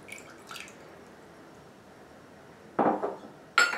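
Water poured into a mixing container for a hair treatment: a couple of brief splashy pours with clinking contact sounds, fairly close, against quiet room tone and with no talk.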